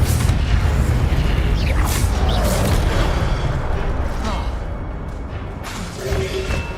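Incendio fire spell cast in Hogwarts Legacy, a loud, dense burst of roaring, crackling flame and booming impact that fills the clip and slowly tapers off toward the end.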